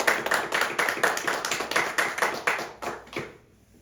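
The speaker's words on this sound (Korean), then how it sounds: "여러분, 우리 이 예수님께 우리 영광의 박수로 영광 돌리겠습니다." Rhythmic clapping from a church congregation during a Sunday sermon, a steady beat of hand claps filling the room before stopping abruptly near the end.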